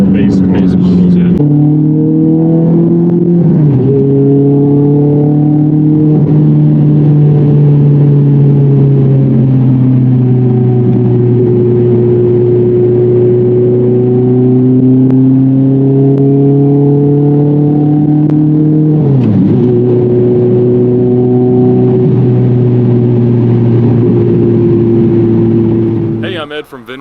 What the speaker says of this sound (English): I just got to take a ride in this fantastic gated 430 Scuderia